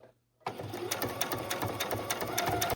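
A sewing machine stitches bias tape onto a needlepoint canvas, starting after a brief quiet moment and then running steadily with a fast, even mechanical chatter, close and fairly loud.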